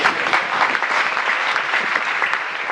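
A church congregation applauds loudly and continuously, a dense, steady wash of many hands clapping close by with no pauses and no talk over it.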